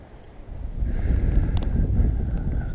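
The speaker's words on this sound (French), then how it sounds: "Le vent se lève et comme vous le voyez, ça ne facilite pas" Wind gusts outdoors at a perch-fishing spot, buffeting the microphone with a steady low rumble and faint rustle, without any voices.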